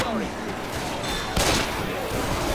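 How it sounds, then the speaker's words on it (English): Pistol fire in the zombie shooter Left 4 Dead 2: dense bursts of gunshots rattle over constant game noise, with a sharper blast midway and a player talking over the shooting. "That's why I'm using a crappy pistol"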